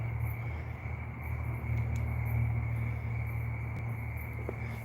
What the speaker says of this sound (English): Nothing but crickets.